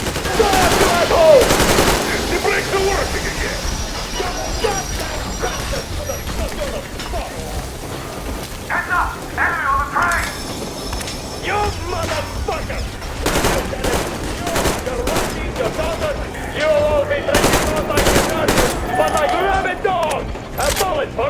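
Gunfire in the video game Metro Exodus, with bursts of rapid automatic shots and sharp single reports mixed with mechanical clanks, spread through the clip alongside voices speaking.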